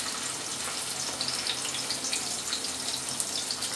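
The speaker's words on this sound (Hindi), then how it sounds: "तो तेल चढ़ा लिया, सबसे पहले इसमें डाल लेंगे ऑनियन" Onion hitting heated oil and frying in a pan, a continuous dense close sizzle at a steady level without speech.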